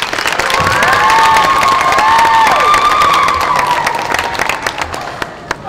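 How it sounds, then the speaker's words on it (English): An audience at an elementary school awards ceremony claps and cheers steadily for fifth graders, with whoops and shouts rising over the applause before it tapers off. "How about one last round of applause for our fifth graders?"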